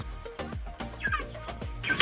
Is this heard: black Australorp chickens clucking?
yes